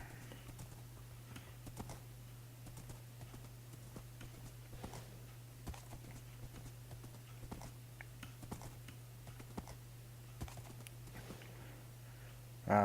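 Hooves clip-clop steadily in a video game world, a faint, even rhythm of soft knocks over a constant low hum.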